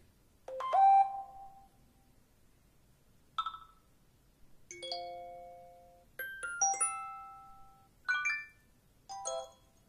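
A series of bright iPhone iOS 7 electronic alert tones and bell-like chimes, each ringing briefly then decaying, played one after another with short silences between.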